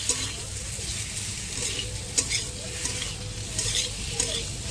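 Boiled potato and papaya are stirred into a spice paste in a hot pan. A continuous loud sizzle carries occasional scraping strokes of the spoon, and no one speaks.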